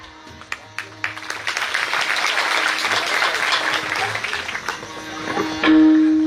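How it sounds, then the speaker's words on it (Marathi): A crowd claps rhythmically at a Mahanubhav sect kirtan, with steady dense clapping that builds and holds loud for several seconds. A sustained tone rises near the end. "ही टाळी कीर्तनातली टाळी"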